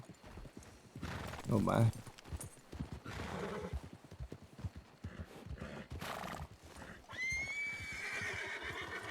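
A horse clip-clops and neighs, with hoof beats and whinnies running through most of the stretch while people talk over them.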